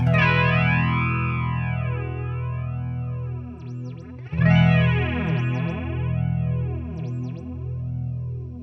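A strummed guitar chord through an MXR EVH flanger pedal rings out heavily processed, with a sweeping, whooshing jet-like modulation rising and falling as it sustains, then a second chord is struck.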